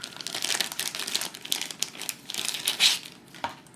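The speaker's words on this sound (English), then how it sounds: "Let's get out the cards." Cards for the Galaxy Zento board game come out of their plastic wrapping with continuous crinkling and crumpling of packaging, close and fairly loud, including a sharper rustle near the end.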